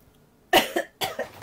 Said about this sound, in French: Excusez-moi, mais je tousse.